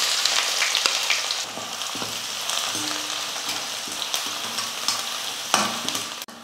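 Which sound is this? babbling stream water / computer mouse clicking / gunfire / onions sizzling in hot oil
onions sizzling in hot oil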